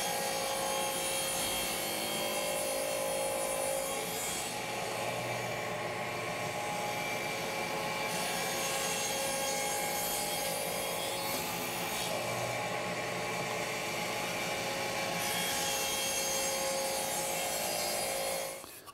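A saw cuts steadily across the end grain of a small wooden box, a continuous loud rasping whir that holds for about eighteen seconds with slight changes in pitch, then stops.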